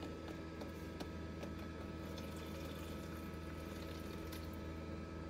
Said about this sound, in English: We're going to add a little bit more water to our eggs to keep the humidity up in the incubator.